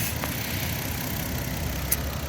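A 1997 Lexus LX450 (FZJ80) idles with its radiator cooling fan blowing, a steady, close, even drone and whoosh throughout with no talking.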